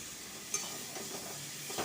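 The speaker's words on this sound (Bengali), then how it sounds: "পেঁয়াজগুলোকে একটু নাড়াচাড়া করে নেব খুব লাল লাল করে ভাজবো না" Onions stirred and fried in a pan give a faint, continuous sizzle with soft scraping strokes of a spatula, quiet and close, with no voices.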